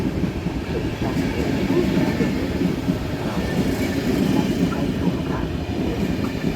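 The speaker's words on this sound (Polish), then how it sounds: "Pociąg ze stacji Warszawa do stacji Wrocław" A TLK train from Warszawa to Wrocław rolls through Warszawa Wschodnia station on a rainy morning, a loud steady rumble of wheels and carriages with soft clatter running throughout.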